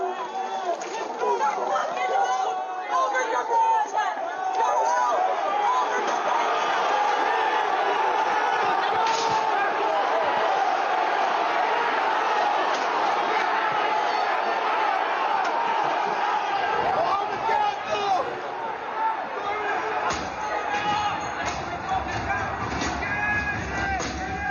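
A large crowd roars and clamors at the US Capitol breach on January 6, a dense continuous mass of shouting voices and commotion with a heavier low rumble toward the end.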